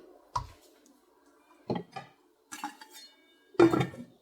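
Metal pot and lid clanking as a lid is set over a rice pot: four separate clinks and scrapes spaced a second or so apart, close and fairly loud in a quiet kitchen.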